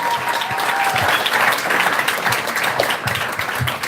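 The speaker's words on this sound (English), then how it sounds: "Give them a round of applause." Wedding guests break into loud, sustained applause, many hands clapping together close by, with faint voices and cheers mixed into the crowd noise.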